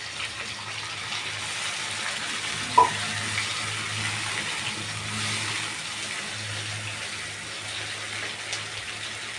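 Spice masala with turmeric, salt and a splash of water sautés in a pan, giving a soft, steady sizzling hiss throughout, broken by one sharp utensil clink early on.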